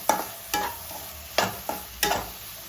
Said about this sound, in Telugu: ఎగ్గును కూడా 2 మినిట్స్ ఫ్రై అవ్వనిద్దాం.